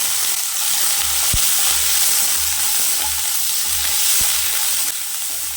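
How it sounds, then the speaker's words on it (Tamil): Small shallots frying in oil for a coriander chutney, with a steady broadband sizzle throughout and a couple of sharp clicks from a utensil against the pan, no talking. "நல்லா வெங்காயம் வதங்கட்டும்"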